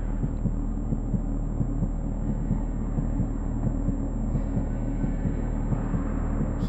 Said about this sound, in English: the heartbeat stops